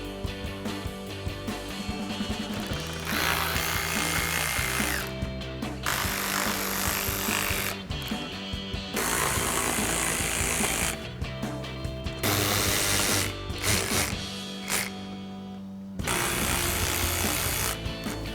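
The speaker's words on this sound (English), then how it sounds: "So we've got our T15 Torx bit on our ratchet, and we'll get these popped out." A ratchet driving a T15 Torx bit to back out Corvette fender bolts: rapid, close clicking in several bursts of a few seconds each, separated by short pauses, with no talking.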